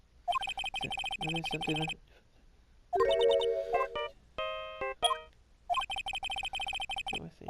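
Ringing phone in the courtroom video game Phoenix Wright: Ace Attorney, with bursts of electronic trills near the start and end, and game chimes and a brief voice between them.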